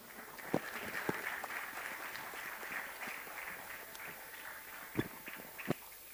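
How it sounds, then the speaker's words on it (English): Applause from a TEDx audience, a steady crowd patter with a few sharper claps standing out near the end. "Please do be generous with your applause."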